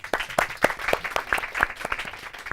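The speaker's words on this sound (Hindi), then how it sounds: "दिनकर टीम के लिए तालियां।" Audience applause for a team in a Hindi quiz semi-final, a scattered, moderately loud round of clapping from a modest crowd lasting a couple of seconds, with no talk over it.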